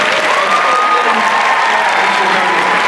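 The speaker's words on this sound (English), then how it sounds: "please give a round of applause to the cast" Loud, sustained applause with some cheering from a Comic Con panel audience greeting the cast of Scorpion, a dense even wash of clapping from start to finish.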